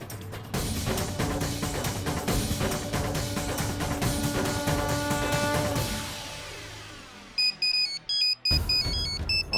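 A mobile phone ringtone plays loudly over background music in a Hindi TV drama scene, its bright repeating electronic tones pulsing in short bursts toward the end.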